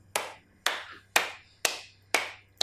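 Children clap their hands during a classroom game: six crisp, evenly spaced claps, roughly two per second, each ringing briefly in the room over a faint low hum.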